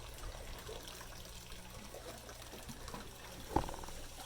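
Water drains out of a boat in a faint, continuous trickle heard close by, with a single sharper splash near the end.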